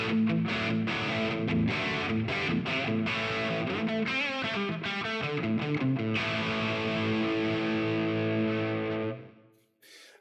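An electric guitar runs through a Quad Cortex modeler set to a Marshall Jubilee amp model on its lead channel, playing heavily distorted chords and ringing riffs for about nine seconds before cutting off into near silence.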